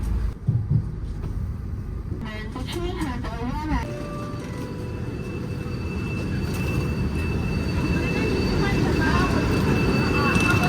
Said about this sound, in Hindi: ट्रेन जो है ना नानजिंग साउथ स्टेशन पे पहुंचने वाली है